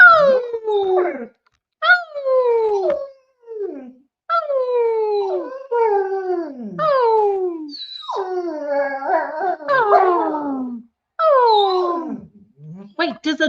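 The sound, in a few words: dog howling and whimpering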